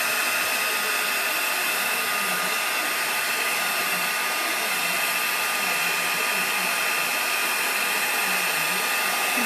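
A heat tool melts UTEE embossing powder, a loud, constant blowing hum with a steady whine that runs unbroken throughout, with no talk.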